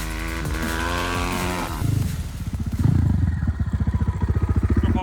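A cheap Chinese enduro motorcycle ridden off-road, its single-cylinder engine revving up and chattering steadily, loud and close, with the note rising and pulsing as the rider gets used to the bike.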